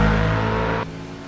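A Hyperion V8 race car engine in Assetto Corsa holds a loud, rich harmonic drone, then drops abruptly in pitch and volume partway through as the revs change.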